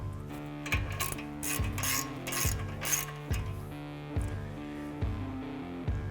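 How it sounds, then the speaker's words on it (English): A ratchet fitted with a 15mm deep socket works a tie rod end nut loose on a Ford Ranger suspension. It gives repeated clicking pawl strokes, each sharp burst of clicks separated by short pauses, up close, with no talking. "we need to loosen up the nut on this tie rod end so we can get the tie rod free"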